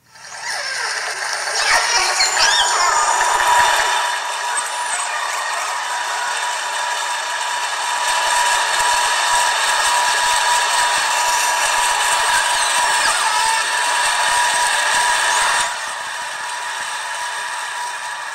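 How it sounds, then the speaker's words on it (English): Underwater, killer whales give repeated high tonal calls while a passing tanker adds a steady broadband drone that swells and then eases, a dense continuous mix lasting nearly twenty seconds. "this next sound clip shows the whales calling with also a tanker passing by"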